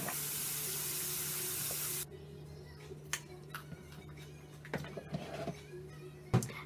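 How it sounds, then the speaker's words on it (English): Cold tap water runs hard over carrots in a kitchen sink for about two seconds, then cuts off, leaving scattered faint knocks and handling clatter. "Wash them in cold water, by the way."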